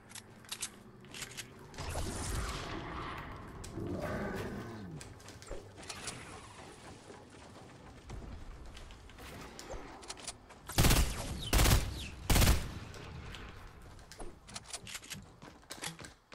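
Gunfire in the Fortnite video game pops out as a short cluster of three loud shots close together, following a stretch of quieter game ambience and movement sounds.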